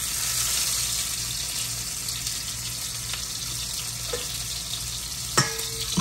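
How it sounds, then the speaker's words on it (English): Meat sizzles steadily in a hot pan, a constant close crackling hiss with a couple of clinks of a utensil toward the end. "I'm going to try to keep a little of the sizzle going down"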